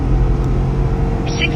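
A 2024 Ford F-150 pickup with a EcoBoost or PowerBoost engine gives a steady, deep rumble from inside the cab during a 0-60 run, a loud low drone with little change over the brief moment.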